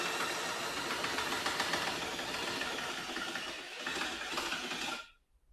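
A Black Boar implement lift on a farm tractor raising back up, heard as a steady mechanical whirring drone that ends abruptly in silence, with no talk.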